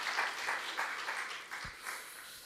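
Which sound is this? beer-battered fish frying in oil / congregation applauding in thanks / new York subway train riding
congregation applauding in thanks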